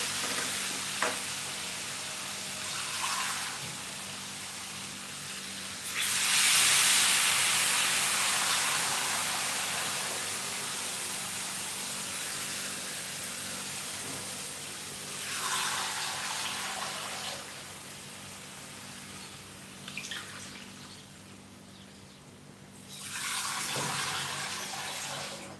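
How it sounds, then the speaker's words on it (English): Water is poured into a sizzling Chinese-style cabbage stir fry with coconut cream, bringing loud bursts of hissing and bubbling that rise and fall several times over a steady background frying sound. "Then I'm going to add more water."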